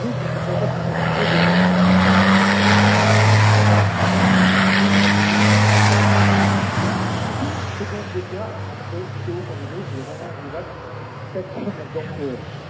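Racing trucks roar during a qualifying session, a loud sustained drone of heavy engines passing close then fading slightly, with a commentator talking over it.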